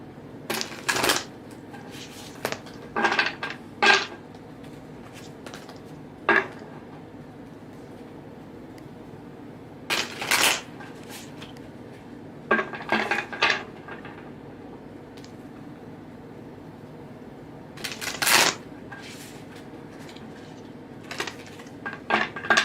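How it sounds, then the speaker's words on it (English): A deck of tarot cards is shuffled in repeated bursts of crisp riffling and slapping, separated by short pauses, close by with no talking. "Let's shuffle these cards up, everybody."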